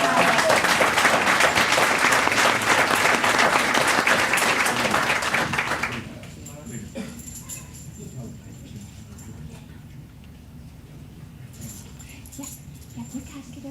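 A family cheering and applauding at a school board meeting, with loud clapping for about six seconds that stops abruptly, leaving quieter room noise and scattered talk.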